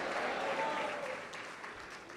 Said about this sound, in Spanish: Dale un aplauso más fuerte.